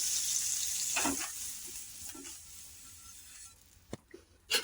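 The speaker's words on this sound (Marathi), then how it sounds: "मी तवा ठेवला गॅसवर आणि त्याच्यावर पाणी छिडकून मी याला पुसून घेणार आहे" Water splashed onto a hot iron tawa over a gas flame hisses and sizzles in a loud opening burst, then fades into quieter crackling with a few short sharp pops near the end; no one speaks.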